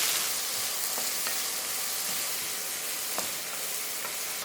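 Chopped onions sautéing in a pan for a Sri Lankan fish curry, a steady close sizzle and hiss with occasional faint taps of stirring, no voices.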